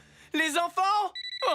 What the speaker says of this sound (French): C'est le téléphone de mon fils.